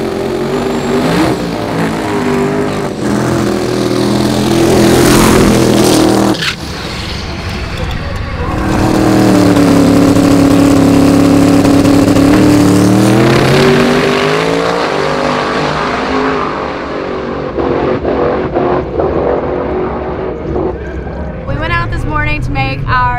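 Drag race cars at Sick Week in Gainesville roar loudly through a long pass, engines building and rising in pitch, dropping off and swelling again, with people talking over the din.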